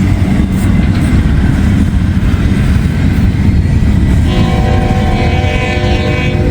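An intermodal freight train rolls past close by, a loud, constant heavy rumble of wheels and cars, with a horn-like tonal note sounding in the last few seconds.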